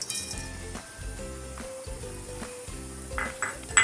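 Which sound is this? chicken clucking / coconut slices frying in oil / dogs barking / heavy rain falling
coconut slices frying in oil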